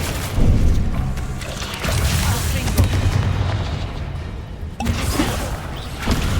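Confringo fire spells explode in the game Hogwarts Legacy, heavy booming blasts that hit in a few separate bursts with rumbling tails, under a voice speaking at the same time.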